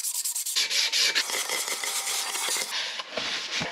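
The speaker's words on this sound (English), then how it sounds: "I'm now going to sand this in a bit" Sandpaper worked on the brake hub of an Ifor Williams trailer, a loud, close rubbing rasp that starts in short strokes then turns into a continuous scouring, with no voices.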